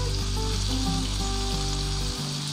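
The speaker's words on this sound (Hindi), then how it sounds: "ये हमने फ्राई कर लिया" Potatoes fry in oil for spicy chatpata aloo, producing a loud, continuous sizzle that runs the whole time under a steady background melody, then thins slightly at the very end.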